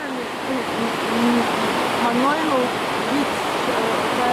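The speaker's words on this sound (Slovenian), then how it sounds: "In potem tlele voda naprej nadaljuje dol do velikih slapov." Roški slap waterfall in Krka National Park, Croatia, gives a steady broadband rush of flowing water throughout, with a voice talking over the constant roar.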